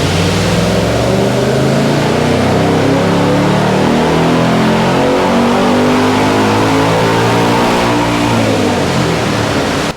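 A Ford Mustang Dark Horse makes a dyno pull, its engine revving hard and climbing steadily in pitch for about ten seconds, loud and close with a roaring, dense tone and no talk.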